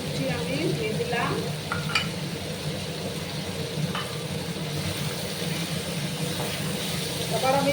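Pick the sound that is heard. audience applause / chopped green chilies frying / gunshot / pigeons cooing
chopped green chilies frying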